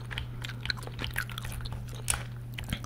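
Gum being chewed with soft wet smacks, crunches and occasional slurps in a close, quiet ASMR-style recording during a Fortnite game, over a steady low hum.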